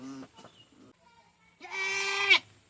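A young goat bleating: a short cry at the start, then one long, loud, wavering bleat close by near the end, with quiet pauses between.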